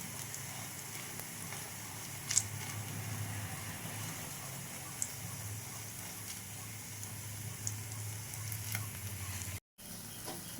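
A semolina snack cooking in a pan on low heat gives off a steady, even sizzle with faint crackles and small pops throughout, close and continuous, dropping out briefly near the end.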